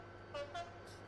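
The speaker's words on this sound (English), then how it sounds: "Hey, you there, listen to my new horn." Ted's new train horn sounds two short tonal toots in quick succession, faint against a low background hum, with no other sound around them.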